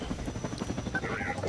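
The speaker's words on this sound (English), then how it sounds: "See that helicopter right there?" A helicopter's rhythmic rotor chop thumps steadily at moderate distance in Half-Life 2, with a faint tonal whine rising briefly over it.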